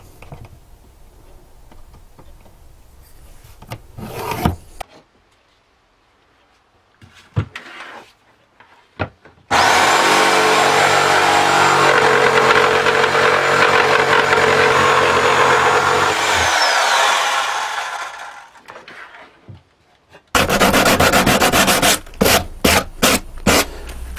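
Wooden baseboard for a lamp built from old books having its corners rounded off, with scattered scraping and tapping, then a long loud steady power-tool whine that winds down, followed by more sharp bursts.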